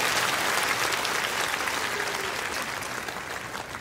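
Sustained applause from a concert audience for a singer, a dense, steady wash of many hands clapping that holds evenly and eases slightly toward the end.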